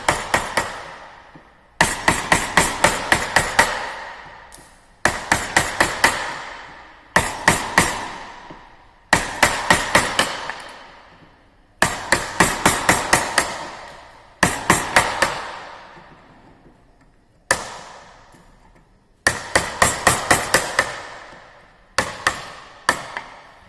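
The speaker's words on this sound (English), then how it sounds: "Again we can do the chiseling operation, the keep it in negative angles downside." Chisel struck with a mallet into a wooden workpiece during carpentry, loud sharp blows in quick clusters of several hits with short pauses between groups, close and ringing, no talk.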